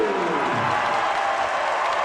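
A crowd at a school volleyball championship final applauds steadily, a dense even wash of clapping with some cheering throughout, no talk heard.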